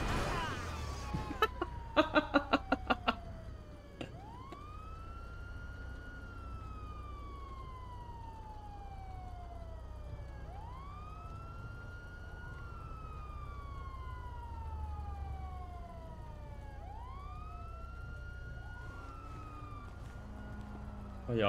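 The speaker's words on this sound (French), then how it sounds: "c'est la sirène qui fait bugger, je pense" A police siren in GTA 5 RP wails in repeated rising-and-falling sweeps over a low engine rumble, loud and continuous, after a short burst of rapid clicks near the start.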